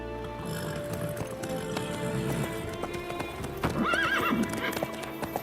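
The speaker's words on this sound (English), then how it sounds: "And they set off." Horses in The Witcher 3 clip-clop steadily as riders set off, hooves thudding in an even rhythm up close, with a horse whinnying briefly partway through over a low music bed.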